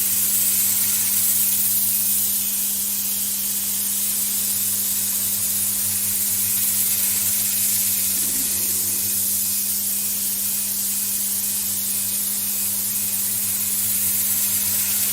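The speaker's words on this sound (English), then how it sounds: "I've just put the overhead extraction on to take the dust away from here a bit." Overhead dust extraction in a woodturning workshop runs as a constant loud airy rush with a steady low electrical hum underneath, unbroken and without talk.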